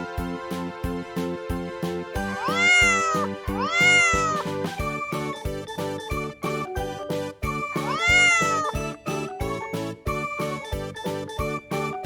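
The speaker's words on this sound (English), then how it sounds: "Cat." A cat meows several times, with clear rising and falling cries in two close pairs and then one more, over bouncy children's background music.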